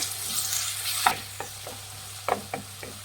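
Chopped tomatoes are stirred into a frying mixture in a pan, a faint steady sizzle broken by several short scraping stir strokes, no talking.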